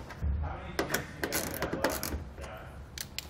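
Hardware on a Ram 1500 mud flap trim piece is tightened with a tool that gives off small ratcheting clicks and light metallic taps, close up and quiet over a low background hum.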